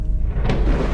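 Deep rumbling thunder rolls loud and close as a sound effect during an Indonesian audio Bible reading of John chapter 12, a continuous low roar filling the whole second with no speech.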